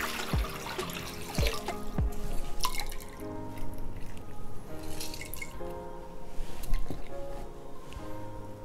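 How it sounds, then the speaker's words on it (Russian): Water poured into a deep dish holding lemon juice and cauliflower florets, with several sharp drips and splashes early on followed by a steady trickling pour, close and moderately loud. "наливаем туда воду, добавляем лимонный сок и складываем капусту"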